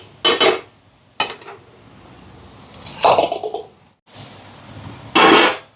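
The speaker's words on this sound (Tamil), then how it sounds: "இப்போ தோசைக்கல்லை வைப்போம்" A dosa griddle set onto a kitchen stove while making Jaffna coconut pani roti: a few close, sharp metallic clanks and scrapes spaced out over several seconds, with quieter handling noise between them.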